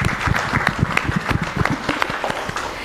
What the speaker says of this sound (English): Can you please give a round of applause to our panelists?